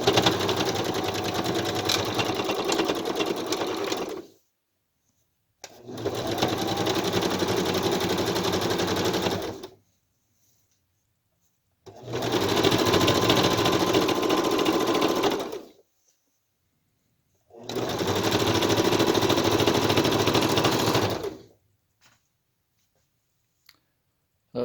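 A sewing machine stitches washable fabric masks in four long, loud bursts of rapid mechanical clatter, separated by short silent pauses.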